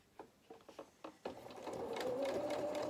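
A sewing machine stitches felt for a toy cat's head, opening with several short, separate clicks and stitch bursts before it settles into a steady, close whirring run.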